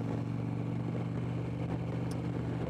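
A 2007 Harley-Davidson Electra Glide Ultra Classic cruises in low gear on a road, its engine giving a loud, steady, throbbing drone that holds at a constant pitch throughout.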